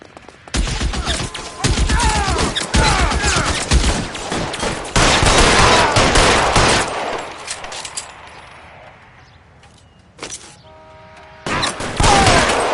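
Heavy video-game gunfire in a PS4 shooter, with dense bursts of automatic fire and rapid shots for several seconds, then a lull and a few more loud volleys near the end.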